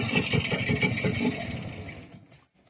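A small engine with a PACCO carburetor, freshly adjusted, runs hard in a loud close drone with rapid firing pulses, then cuts off and fades to near silence near the end, with no talking.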